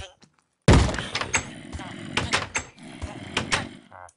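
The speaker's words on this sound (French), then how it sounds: "Ils sont en train de défoncer la porte." A zombie mob in Minecraft batters a wooden door: repeated loud thuds and knocks come after a short silence, irregular and close, with a steady background of game sound throughout.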